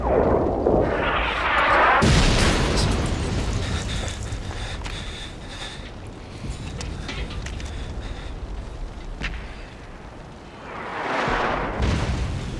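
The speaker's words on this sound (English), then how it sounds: "you should wait till there's an explosion" Sudden loud blast, likely an explosion, with a sharp onset followed by a long rumbling, crackling tail, then a second swelling burst near the end.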